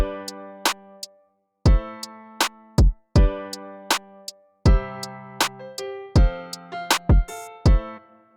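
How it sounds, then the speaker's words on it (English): Hip hop and R&B style drum pattern programmed in FL Studio, with sharp percussive hits in a steady syncopated groove over sustained tonal layers, loud and close with no talking. "the combination of the drums sound like this"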